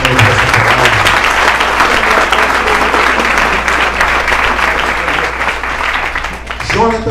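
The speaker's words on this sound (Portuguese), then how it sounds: "E pode aplaudir o Senhor nessa palavra." A church congregation applauds during a worship service, a loud, dense, continuous clapping that holds steady for several seconds before a voice returns near the end.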